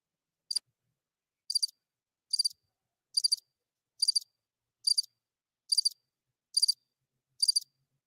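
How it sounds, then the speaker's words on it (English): Crickets chirp in a steady series of short, regular trills inside a hushed Winnipeg hockey arena, about nine evenly spaced bursts, fairly close and alone with no other sound. "You can hear crickets."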